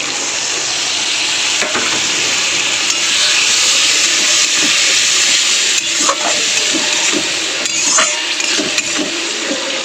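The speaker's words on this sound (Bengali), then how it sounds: "তাহলে একটু জল দিয়ে দেওয়া যাক, দিয়ে কষিয়ে নিই, নাহলে মশলাটা পুড়ে যাবে।" Spice paste of turmeric and chili powder sizzles and hisses steadily in a pan after water is added, a dense continuous frying sound with occasional stirring scrapes, close and fairly loud throughout.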